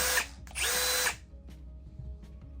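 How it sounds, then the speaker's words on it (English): A Metabo power drill revs in two short, loud whining bursts, cutting off abruptly each time, followed by quieter clicks and handling noise. "This is the noisiest drill on the market."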